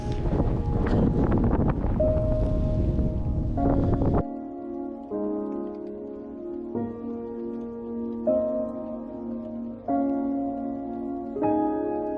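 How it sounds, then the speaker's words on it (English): Strong wind on the Nullarbor Plain buffets the microphone in a loud rumble for the first few seconds, then gives way to sustained tonal humming. "It's a bit windy,"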